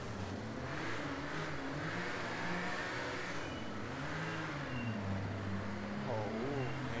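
A car engine revving steadily while drifting in the Wreckfest racing game, a constant mid-pitched roar rising and falling in pitch, with no talk over it.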